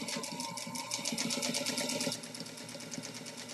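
A vintage Featherweight sewing machine quilting at a gentle, steady pace, its needle mechanism ticking in a fast even rhythm with a soft motor hum, close and moderately quiet, alone without talk.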